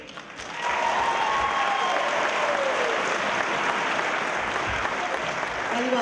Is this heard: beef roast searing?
no